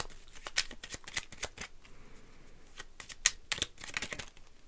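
Lenormand cards being shuffled during a tarot reading, a run of quick papery riffles and soft flicks that come in bursts and sit close and fairly faint, with no voice over them.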